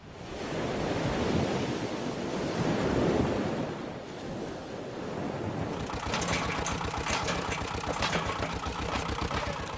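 Sea waves breaking on the coast by Romney Marsh, a loud rushing surge that swells and eases, mixed with wind noise and a rapid mechanical rattle in the later part.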